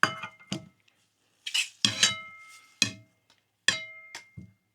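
Metal camping cookware clinking as a steak is set onto a titanium plate, several sharp separate clanks and scrapes spaced irregularly with quiet gaps between, close up and with no talking.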